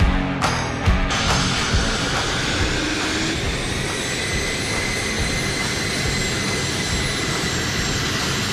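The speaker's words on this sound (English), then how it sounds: "This particular one right here, Eclipse, the 500, that was my first jet ride" The engine of an Eclipse 500 light jet roars steadily and loudly at close range. A few sharp clicks or knocks sound near the start, and the broadband whine holds without letup throughout.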